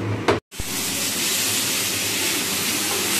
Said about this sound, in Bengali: সেটা আবার একটু ফুটিয়ে নিচ্ছি